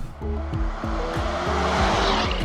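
A 2022 Maserati Ghibli Hybrid on 19-inch wheels accelerates hard in a performance test, its engine note rising through repeated gear changes with a stepped, climbing pitch, loud and close throughout with no talking.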